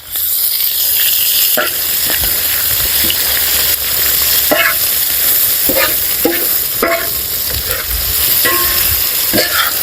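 Carrot and onion fry loudly for plov cooked outdoors on a riverbank, a dense continuous sizzle broken by repeated scraping stirs of the pan.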